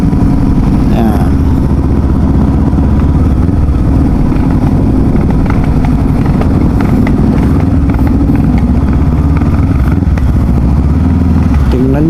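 A Voge 300 Rally motorcycle engine runs loudly up close, a steady throbbing idle with slight rises in revs.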